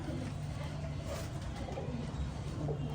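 Pigeon coos from a flock of Rampur fancy pigeons sound low and faint, half-buried in a steady background hum, with a voice murmuring softly.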